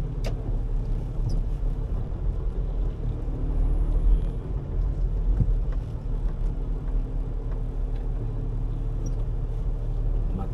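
Steady low rumble of idling and creeping cars in a traffic jam along Nia Road near East Avenue, a continuous drone of engines close by with no voices.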